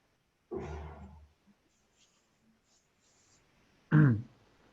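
Two short throat clearings in a quiet online class, a rough burst near the start and a louder, sharper one a few seconds later, separated by near silence.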